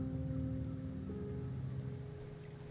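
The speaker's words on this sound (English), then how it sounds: "The rains in Septimont never seem eager to leave this season." Steady rain falls in the video game Wuthering Waves, a soft continuous patter with a low rumbling bed underneath, level and unbroken throughout with no voices.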